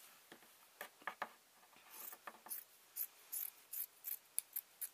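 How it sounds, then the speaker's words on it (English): Scissors cutting through sewing cloth for a small drawstring bag, a quiet series of crisp snipping clicks, about a dozen close cuts in an irregular rhythm, alone without talk. "it's a simple matter of cutting out"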